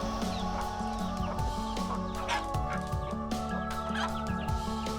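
Free-range village chickens cluck continuously at close range, with overlapping hen calls and a busy, steady flock chatter throughout.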